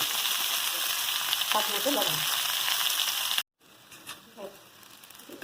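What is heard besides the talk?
boiled potatoes frying in oil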